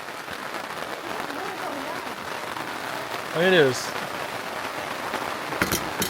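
Heavy rain pours steadily onto an open camper awning during a sunshower on a South Dakota trip, a dense continuous hiss throughout, with a voice speaking briefly partway through.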